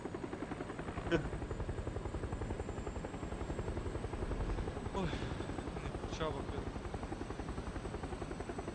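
A rhythmic, pulsing helicopter rotor chop from PUBG, steady and fairly close, with brief game noises and players talking over it.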